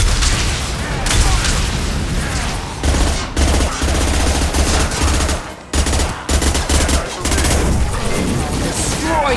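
Loud, sustained squad gunfire in Mass Effect 2, with dense overlapping bursts and heavy booms running almost continuously, broken by a few brief gaps, with a voice occasionally heard beneath the shooting.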